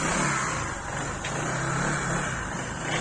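A tuned Honda PCX scooter rated at 18 horsepower revs steadily on its first test ride on asphalt, a continuous close, loud engine whine with rushing air and no voices.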